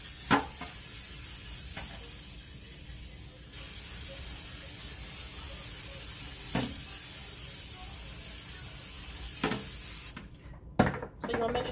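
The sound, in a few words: spraying cooking spray into a silver pan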